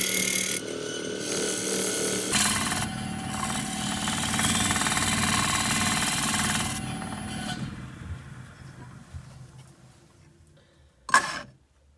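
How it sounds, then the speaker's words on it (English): A carved wooden dragon bowl being lightly sanded with a power tool, a loud continuous whirring grind for about seven seconds that then winds down to quiet, followed by a brief sharp burst near the end. "I'm going to sand that back lightly."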